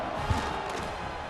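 A stadium crowd in College Football 26 roars steadily after an Ohio State touchdown against Oklahoma, a dense, continuous wash of cheering with one soft thump early on.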